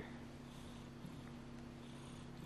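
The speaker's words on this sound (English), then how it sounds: "She's purring so loud." A steady, low rumbling purr from a cat, continuous and close, with a constant hum underneath and no talking.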